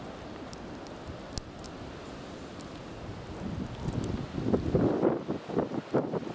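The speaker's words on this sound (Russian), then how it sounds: "тут дует снегопад" Wind gusts and rustles during a snowfall, a soft broadband blowing that grows louder and more buffeting in the second half, with a few faint ticks and knocks near the microphone.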